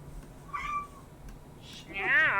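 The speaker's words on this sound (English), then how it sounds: "Your cat sounds so pathetic." A pet cat meows indoors, one short soft meow early on, then a louder, drawn-out wavering cry at the end, with a quiet room in between.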